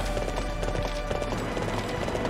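Horse hooves galloping in Warriors Orochi 3, a quick repeated clip-clop rhythm that runs loud and steady over busy battle noise.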